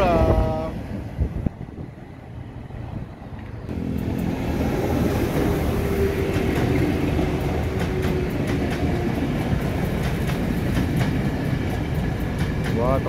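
A JR 205 series commuter electric train rumbles past at close range, a steady loud roar with wheel clatter and rattling, after a brief quieter stretch with faint talk.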